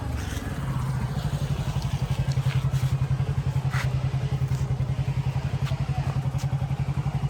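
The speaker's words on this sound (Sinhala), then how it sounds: "මම බයික් එකේ යනවා ඉන්නේ" A motorcycle is ridden along a road, its engine a steady, rapid pulsing drone close by, with wind rush and faint talk mixed in.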